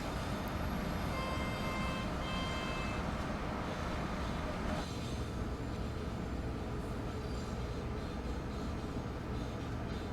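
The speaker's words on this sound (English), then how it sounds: "seeing a train do its sort of snaking action like this through sets of points." A train in Train Sim World 3 on the upgraded Northeast Corridor between Boston and Providence snakes through a set of points, with a steady dense rumble and clatter of wheels and carriages running on for the whole stretch.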